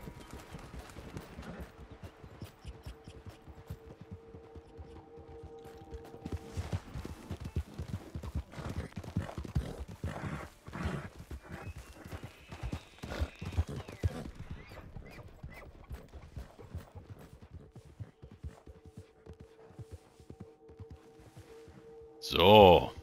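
A horse in Red Dead Redemption 2 clops along with steady hoofbeats and clatter, one rising neigh at the very end, and someone talks quietly underneath.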